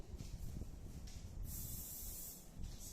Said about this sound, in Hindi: यहाँ पे मैं कौन सा स्प्रे यूज कर रही हूँ, हार्ड स्प्रे